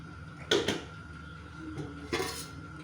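A metal cooking pot of mandi rice is opened with a sharp lid clank, then a second clatter of metal lid or utensil follows a moment later, close and clear in a quiet kitchen.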